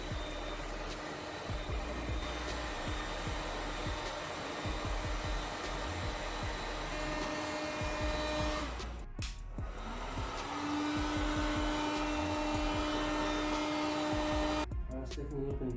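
A bent plastic guard on a Yamaha Kodiak 450 ATV being heated with a hot air gun, a loud continuous blowing whir close by that holds steady, with brief interruptions and a shift in pitch partway through.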